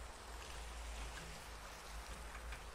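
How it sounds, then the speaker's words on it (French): Heavy rain falls in the Minecraft video game, a soft, constant hiss of downpour with a low rumble underneath, steady and unbroken, with no voices. "Il pleut très très fort sur la carte du guide."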